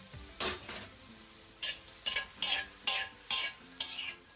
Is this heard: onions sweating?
yes